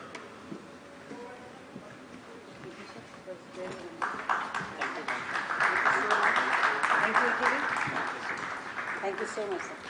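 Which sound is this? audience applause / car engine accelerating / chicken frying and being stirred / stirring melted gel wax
audience applause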